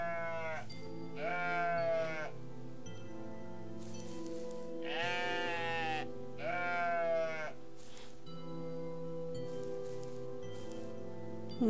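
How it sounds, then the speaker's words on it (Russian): Harsh, eerie sheep bleats from the video game OneShot, several long wavering cries in two or three bursts, loud and close over a steady droning game soundtrack. "Слышали, да, вот это вот блеяние ужасное?"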